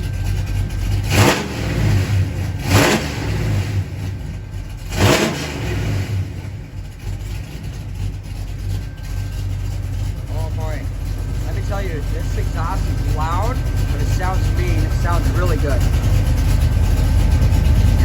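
A 1977 Chevy Camaro with new exhaust gives three sharp revs to about 3,000 RPM early on, then settles into a steady, loud rumbling idle. A person talks over the idle in the second half.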